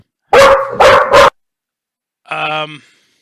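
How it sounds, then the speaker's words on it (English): A dog barks three times in quick, loud bursts, then after a short pause gives one more drawn-out, whining bark. "So when Matilda stops barking"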